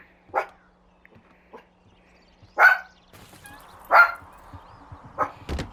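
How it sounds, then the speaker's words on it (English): Several short, loud barks from a pet dog close by in a bedroom, spaced irregularly over a few seconds with quiet gaps between them. "my dog is still with me in my room"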